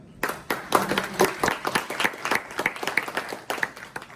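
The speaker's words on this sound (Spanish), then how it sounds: "vamos a darle otro aplauso más a don Daniel Carreiro" Audience applause for Daniel Carreiro, a political science doctor and lecturer, at a university talk on anarcho-capitalism; scattered claps build into a short steady round that stays fairly close and moderately loud without speech over it.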